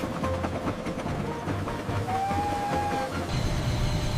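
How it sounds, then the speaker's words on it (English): A passing train rumbles steadily, with a drawn-out whistle-like tone sounding midway and metallic clatter throughout. "This is a train. Choo-choo."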